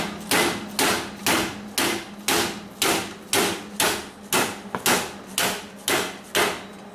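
A hammer beats a bend flat in sheet metal lying on a table, with about fourteen loud, evenly spaced blows close by, each ringing briefly.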